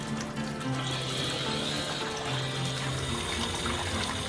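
Water runs steadily from a tap into a bathtub in a Camelot-themed rental room, a continuous low hiss and gurgle of filling that carries on alone without pause.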